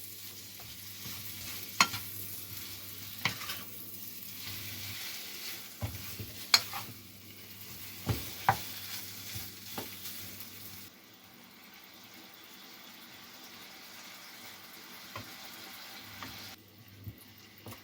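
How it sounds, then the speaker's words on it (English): Pepper steak and green peppers sizzling in a pan while being stirred, a steady frying hiss broken by frequent utensil clinks and scrapes against the pan, close and moderately loud. "nothing left to do but stir this around"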